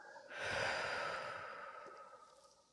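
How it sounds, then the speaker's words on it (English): A single slow, deep inhale followed by a long, soft exhale during a relaxation session, close and quiet, breathy and airy, tapering off gradually with no talking. "Now take deep breath again and exhale."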